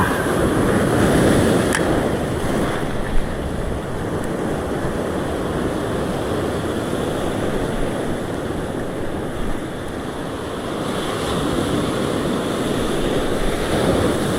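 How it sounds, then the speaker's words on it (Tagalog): Large ocean waves wash and roll around a small fishing boat at sea, a loud, constant surging roar mixed with wind buffeting the microphone. "May alon, guys, malaki-laki."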